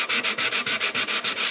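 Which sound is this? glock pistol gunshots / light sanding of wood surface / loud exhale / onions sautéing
light sanding of wood surface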